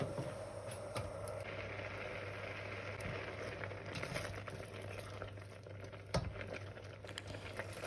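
Rhubarb pieces cooking in 400 ml of hot water in a saucepan over a medium to high flame, giving a steady, continuous bubbling and simmering hiss with a low hum beneath and a few faint clinks.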